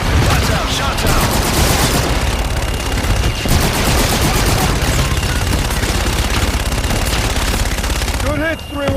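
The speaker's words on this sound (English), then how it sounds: "Request for fire, target is marked." Continuous gunfire and explosions from the video game Call of Duty: Infinite Warfare, a dense, loud barrage of automatic weapon bursts that runs almost the whole time before cutting off near the end, with voices talking over it.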